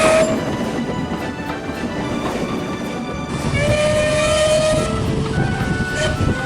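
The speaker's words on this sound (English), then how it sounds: "Renius had to pull them behind Peter Sam's television train" A narrow-gauge toy-style steam train rumbles along its rails close by, with a rolling mechanical clatter and sustained whistle-like tones rising over the noise.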